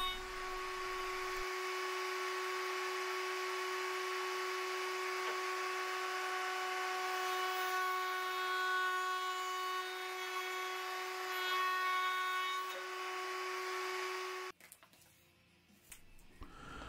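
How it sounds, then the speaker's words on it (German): A loud, steady router with a 10 mm round-over bit rounds wooden edges, a constant high-tone whine running roughly fourteen seconds, then winding down and stopping, followed by faint handling noise. "Alle scharfen Kanten werden jetzt noch abgerundet. Das mache ich mit einem Abrundfräser R10."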